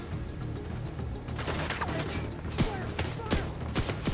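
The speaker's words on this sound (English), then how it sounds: "there's now gunfire from the left" Gunfire in The Division 2 video game: a dense, continuous crackle of shots with sharper individual cracks standing out in the second half, steady and fairly loud throughout.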